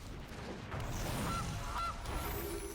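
A goose honks twice in quick succession, short and fairly faint, over a low murmuring background as the Gilded Goose card enters play in Magic: The Gathering Arena.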